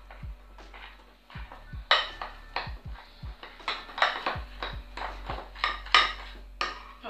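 A utensil scrapes and clinks against a bowl while hazelnut ice cream is folded into whipped cream, making irregular, close-up stirring and tapping sounds with low knocks underneath.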